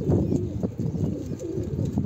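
Low, rolling pigeon coos repeat close by in a steady pattern, soft and throaty, filling the short stretch.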